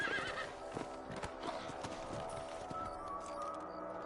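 Hooves clatter in a quick running rhythm with a horse whinny, a busy outdoor mix, fairly faint overall, from the video game Red Dead Redemption.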